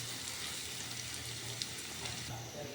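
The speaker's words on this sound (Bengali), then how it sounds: "এখন পেঁয়াজটাকে একটু ভেজে নেব।" Chopped onion and three or four green chillies fry in oil in a pan for papaya bhaji, giving a steady, moderately faint sizzle with a low hum beneath and no voices.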